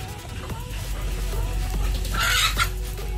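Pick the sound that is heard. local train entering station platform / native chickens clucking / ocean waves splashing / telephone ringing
native chickens clucking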